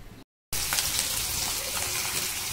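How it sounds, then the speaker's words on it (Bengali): Hilsa fish frying in hot oil in a wok, a dense, loud crackling sizzle that starts abruptly after a brief silent gap and holds steady to the end. "ওই তেলটাই করে এটার মধ্যে আমি মাছটা ভাজব"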